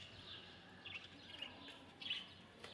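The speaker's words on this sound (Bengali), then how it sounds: "এগুলো হচ্ছে লাভবার্ড পাখি" Lovebirds chirp in short, faint bursts near a canteen, a few brief calls rising over a soft steady background hiss.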